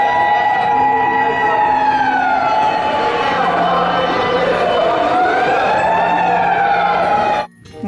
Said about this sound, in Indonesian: Pemadam kebakaran, teman-teman.